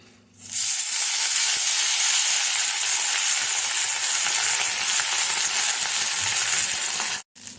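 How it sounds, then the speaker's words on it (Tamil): Washed curry leaves hit a little oil in a pan with a sudden burst of loud, bright sizzling that stays strong and steady for about seven seconds before cutting off. "கொஞ்சமாக எண்ணெய் ஊற்றி கருவேப்பிலை நல்லா அலம்பி எடுத்து வச்சுருக்கோம் அதையும் போட்டு நல்லா வறுத்துக்கலாம்"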